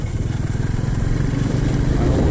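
Motorcycles travel a narrow road in Guinobatan, Albay, their mid-pitched engines droning loudly and steadily close by with no talking.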